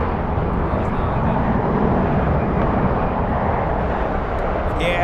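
American Airlines jet, American 4 bound for JFK, taking off from LAX runway 7 left in strong winds, a loud sustained roaring rumble of jet engines with gusting wind noise throughout.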